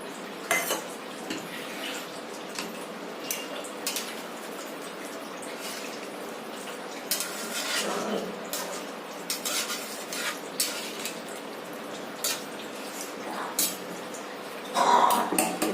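Shrimp dropped and stirred into a pot of simmering taro (maan kochu), with a metal spoon clinking and scraping against the pot in scattered bursts and a louder clatter near the end, fairly faint and without talk.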